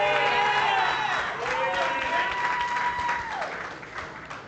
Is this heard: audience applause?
yes